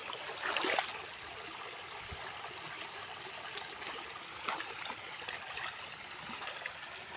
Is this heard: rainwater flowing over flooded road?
yes